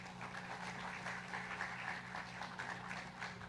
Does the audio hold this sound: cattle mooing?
no